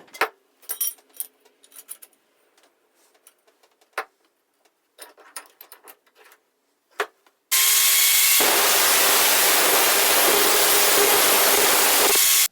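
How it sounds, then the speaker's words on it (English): Some scattered handling clatter gives way to a loud, continuous power-tool whine as a tube is cut, running steadily for several seconds. "We're going to cut a small notch here."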